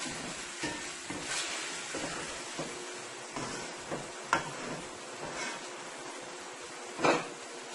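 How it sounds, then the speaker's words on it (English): Onions and tomato paste fry in a pan with a soft, continuous sizzle, broken by a few faint clicks and taps of a utensil nearby. "You're going to let this fry for about 3 to 4 minutes with the onions and the tomato paste."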